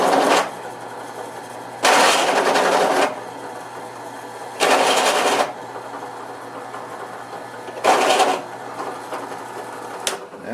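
A Taig micro mill runs in repeated bursts while flattening the bottom of a half-inch drill bit, loud cutting spells of about a second alternating with a steadier motor hum between them, with no talking.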